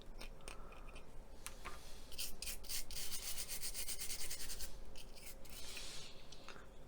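Steady, close rubbing and scraping as paint is worked off a Hasegawa 1/35 Hitachi Zaxis135US excavator scale model to give it a weathered finish, with a continuous gritty texture and brighter rasping bursts, no voices.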